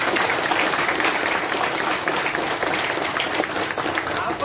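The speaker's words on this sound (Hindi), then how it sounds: "मैं ताली से एक बार स्वागत करता हूं।" Loud, sustained applause fills an indoor hall as an audience welcomes guests at a DXN education program in Doha, Qatar, a steady dense clapping with no break.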